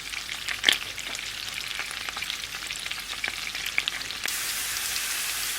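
Potato pieces fry in butter in a pan, giving a soft, steady sizzle with occasional small pops and clicks. No voices are heard over it.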